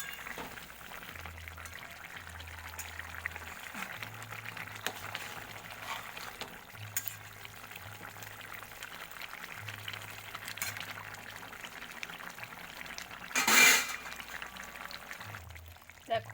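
Tilapia fish curry gravy simmers and reduces in a home kitchen pan, a steady, soft bubbling hiss with a low hum beneath and one brief louder burst near the end.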